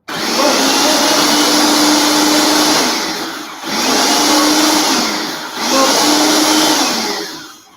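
A blender whirs loudly while mixing a marinade in a kitchen, running in three sustained bursts with short dips between them, no talking.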